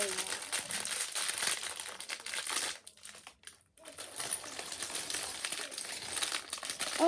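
A plastic bag of Lego pieces from a Transformers Optimus Prime set crinkles and rustles steadily up close, pausing briefly partway through before resuming.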